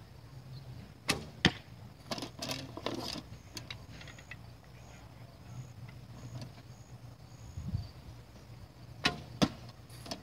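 Backyard bow shooting, arrows striking a can: a series of sharp, close impact clacks and thuds scattered across the stretch, clustered early and again near the end, over quiet outdoor ambience.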